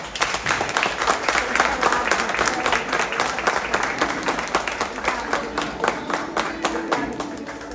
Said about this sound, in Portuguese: Vamos dar a salva de palmas do pessoal